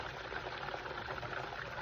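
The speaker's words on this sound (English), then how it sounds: "cup of hot sauce. I'm gonna pour in." A quarter cup of hot sauce pours in for chicken wings, a steady liquid gurgle and splash lasting under two seconds, close and fairly quiet.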